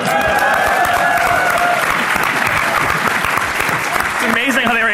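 Live audience at a podcast recording in a ballroom breaking into loud, sustained applause and cheers, with voices talking over it.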